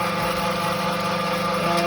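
A Chinese pellet granulator's electric motor running under load, a steady close mechanical hum with a constant whine and vibration, no talking.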